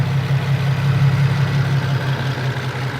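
Warmed-up Nissan 370Z engine idling with an odd noise at about 100,000 miles, a steady close low hum with a slight pulsing rumble, alone without talk.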